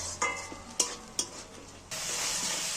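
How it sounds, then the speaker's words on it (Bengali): Tomato masala frying in a pan for an egg curry, with a few sharp spatula scrapes as it is stirred, then a louder steady sizzle that rises and holds near the end; no talking. "দেখো টমেটোটা অনেকটা ভাজা ভাজা হয়ে গেছে, কষানো হয়ে গেছে।"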